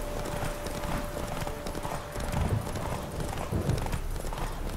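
A horse gallops in The Witcher 3: a rapid, steady clip-clop of hoofbeats on a road, moderately loud with game ambience, and no talk.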